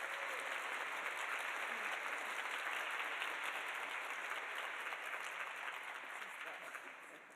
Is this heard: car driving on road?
no